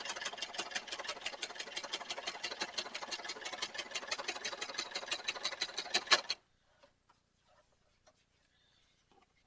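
A sewing machine stitches a leather drawstring bag, running steadily with a fast, even clatter for about six seconds, then stopping abruptly into near silence with a few faint clicks.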